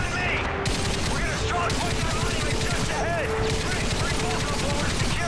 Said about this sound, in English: can I get on this turret?